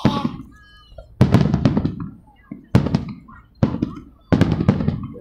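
Fireworks explode in sharp, loud bangs at roughly one-second intervals, each followed by crackling fallout, heard outdoors with faint voices in the background.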